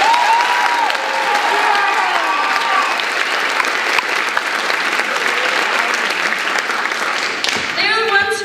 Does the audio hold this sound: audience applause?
yes